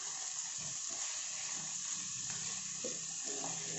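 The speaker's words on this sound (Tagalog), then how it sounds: "pinapa-brown natin yung ating chicken" Chicken pieces browning in a hot frying pan with garlic and onion, a steady close sizzle with occasional stirring scrapes, no talking.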